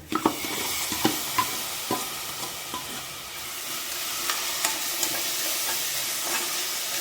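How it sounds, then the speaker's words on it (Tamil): Golden-brown onions frying in a pan as ginger garlic paste goes in for a chicken gravy, a constant sizzle punctuated by sharp spatula taps and scrapes against the pan, close with no talk. "வெங்காயம் நல்லா கோல்டன் ப்ரௌன் ஆயிடுச்சு பாருங்கள் இப்போ வந்து நம்ம இஞ்சி பூண்டை சேர்த்தலாம்"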